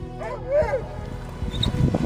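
Dogs in a drifting canoe, one rescuing another, with whimpering and yipping over water and boat noise; no speech.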